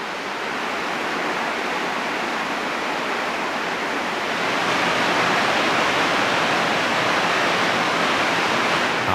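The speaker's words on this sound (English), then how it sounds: "This bubbling stream cuts through the rock in a series of delightful waterfalls." The Almbach, a bubbling stream in Germany, cascades through a rock gorge in a series of waterfalls, producing a dense, steady rushing roar that swells slightly louder partway through, with no voices present.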